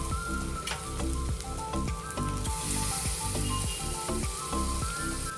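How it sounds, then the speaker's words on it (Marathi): Masoor dal sautéing in hot oil gives a dense, continuous sizzle and crackle close up. Faint rhythmic stirring knocks run underneath. "आणि आता ती परतून घेते तेलामध्ये मसुरीची डाळ परतल्यामुळे जास्ती मऊ होत नाही"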